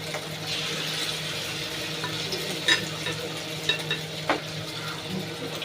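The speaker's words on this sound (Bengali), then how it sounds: "অল্প আঁচ করে করে একটু একটু করে দিয়ে দিয়ে এগুলোকে ভেজে নিতে হবে।" Chicken pieces deep frying in oil over a low flame, a steady close hiss of bubbling oil with a few brief clinks and scrapes from a utensil, no voices.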